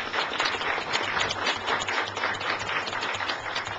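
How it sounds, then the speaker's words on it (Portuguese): A crowd at a public hearing on national environmental policy gives a round of applause. The clapping is moderately loud and uneven, with a pulsing, slightly muffled texture that carries through the whole stretch. "Salve de palmas."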